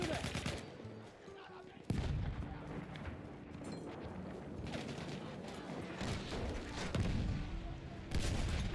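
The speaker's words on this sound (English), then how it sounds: "Machine gun over there." Gunfire in a Battlefield 1 multiplayer match, with repeated loud bursts and sharp cracks that stop and start over rumbling battlefield noise, and faint voices in the background.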